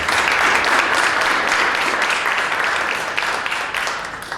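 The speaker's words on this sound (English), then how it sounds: "So let's give a hand of applause to our selection committee." Crowd at a campus awards ceremony applauds a selection committee, a full, fairly loud wash of many hands clapping at once that continues for a few seconds and eases slightly near the end.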